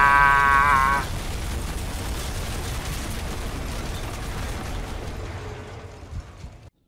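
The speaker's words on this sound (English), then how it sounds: "the explosion is a lot bigger than I expected" A huge nuclear blast in the shooter F.E.A.R. sounds as a loud, broad roaring rumble after a short high tone, sustained for several seconds before cutting off abruptly.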